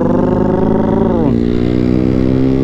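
Yamaha Sniper motorcycle engine revving close up: a steady, loud harmonic drone whose pitch dips partway through and settles lower, with no voices over it.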